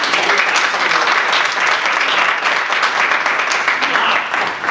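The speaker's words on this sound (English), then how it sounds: "I think they really deserve a round of applause" Audience applause at a Massachusetts cannabis law update event fills the whole stretch: dense, steady clapping from a large crowd, loud and close, easing slightly at the end.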